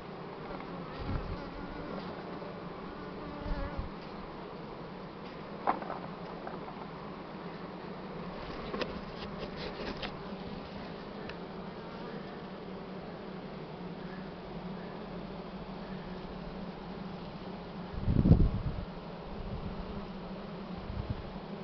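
Honey bees buzzing around an open hive during nest expansion, a continuous even drone of many insects close by, with occasional knocks and handling noises and one louder thump near the end.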